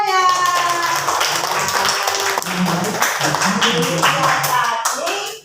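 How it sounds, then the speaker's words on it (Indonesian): A group of children clap their hands in a classroom lesson, a dense run of sharp claps lasting several seconds at close range, with children's voices chattering over and under the clapping. "Tepuk tangan anak-anak semuanya."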